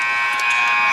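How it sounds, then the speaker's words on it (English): A basketball game buzzer sounds at the end of a quarter in a high school men's game, one loud, sustained, harsh electronic tone filling the whole moment, with faint crowd noise beneath. "And out of there comes Kegley at the buzzer"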